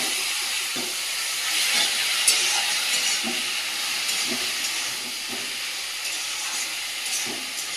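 Boiled taro and spinach sizzle in hot oil in a pan, a steady, close hissing fry with small crackles throughout.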